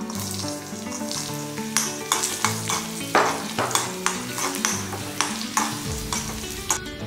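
Cashews and raisins fry in a pan with a steady sizzle, while a spoon scrapes and stirs in frequent clinking strokes close by; no speech.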